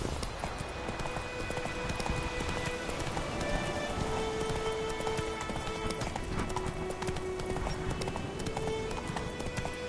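Steady clip-clop of a horse's hooves in a video game, a continuous trotting rhythm running the whole way beneath a rain-like hiss and faint background tones.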